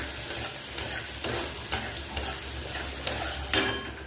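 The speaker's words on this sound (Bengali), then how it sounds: "এরপর আমি সয়াবিনটা দিয়ে দেবো" Soaked soya chunks stir-fried with vegetables in a pan: a continuous frying hiss with regular scraping stir strokes and a sharper clink near the end, close and without talk.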